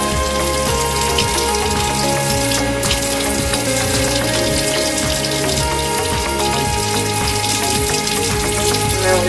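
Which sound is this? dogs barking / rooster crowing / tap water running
tap water running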